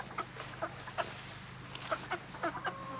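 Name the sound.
chicken clucking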